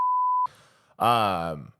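A single steady censor beep, one sustained tone lasting about half a second, bleeps out a spoken name. Afterward a person talks briefly.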